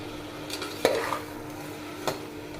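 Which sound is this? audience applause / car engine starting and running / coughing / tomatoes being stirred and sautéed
tomatoes being stirred and sautéed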